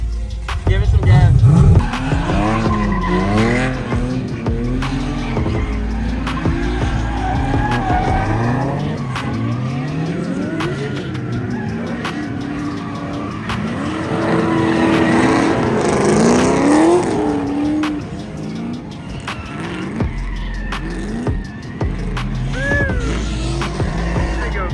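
A pro-am race car is driven on a track by a beginner, its engine revving up and down in repeated rising sweeps with tyre squeal and skidding, loud and close throughout, with voices talking over it at times.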